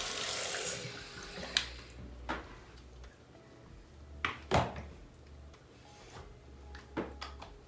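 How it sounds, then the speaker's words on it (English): A facial cleansing brush rinsed under a running tap gives a steady quiet wash of water, with a few sharp clicks and knocks scattered through it. "I'm just gonna rinse it one more time to make sure I got everything off."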